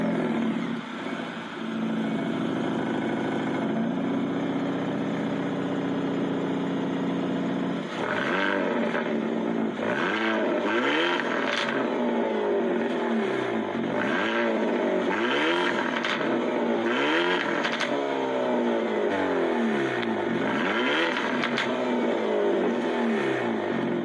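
A 2022 Hyundai Elantra N with big variable-valve exhaust pipes revs up loud and close, with repeated rising and falling throttle blips and crackles after a steady idle.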